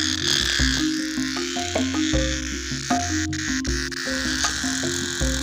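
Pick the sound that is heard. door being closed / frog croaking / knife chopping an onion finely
frog croaking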